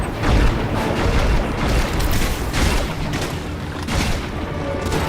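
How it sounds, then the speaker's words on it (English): Dense, continuous booming and gunfire fill a Crysis 3 battle, with grenade blasts and rapid shots blending into a loud, steady roar. "They tossed a grenade over there"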